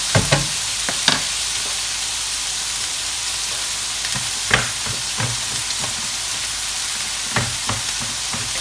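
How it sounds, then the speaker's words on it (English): A bolognese sauce simmers in a pan with a constant loud hiss and bubbling, and a spoon now and then gives brief scraping knocks during gentle stirring. "You do have to give it like a gentle stir now and again."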